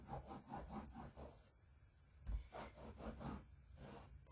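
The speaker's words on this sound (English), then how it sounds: "It just takes a little time to scrub it" Stiff, rasping strokes of scrubbing a bean stain out of carpet with vinegar, close and fairly quiet, pausing briefly before starting again in uneven bursts.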